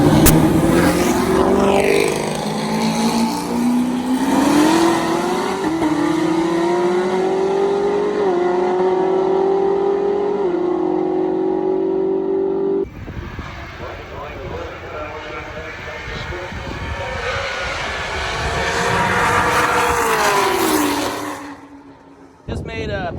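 A Chevrolet Camaro ZL1 at full throttle on a racing pass to 145 mph, a loud sustained engine roar rising in pitch through gear changes, then easing off and fading, with voices talking over it.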